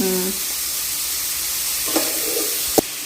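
Onions sautéing in a pan with a pinch of rock salt for chicken curry sizzle steadily up close, with a faint scrape of stirring and one sharp clink near the end.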